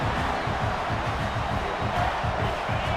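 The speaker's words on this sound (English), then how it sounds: "This crowd, full throat, spreading the eardrums" A roaring football stadium crowd cheers in a dense, continuous wall of noise, loud and unbroken throughout.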